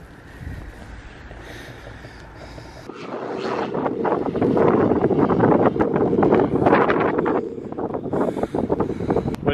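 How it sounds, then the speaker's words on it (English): Wind buffets a microphone on an exposed hilltop in the English Lake District, a steady low roar that swells into stronger, louder gusts partway through and carries on without letup. "It might be a little bit windy up here."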